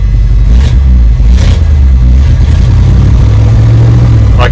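A loud old fuel-injected shop truck engine revs and holds at a steady, smooth idle-like drone, with a few brief rises in pitch as the throttle is pressed, heard close up.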